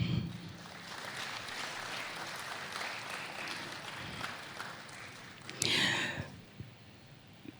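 Audience at a CONEB anniversary cocktail event applauding as the president of the Economic and Social Council is welcomed onto the stage, a steady patter of clapping with a brief sharper burst near the end before fading.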